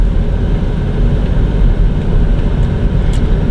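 Car air conditioning blowing steadily on defrost inside the cabin, a loud, continuous broadband rush of airflow with no talking.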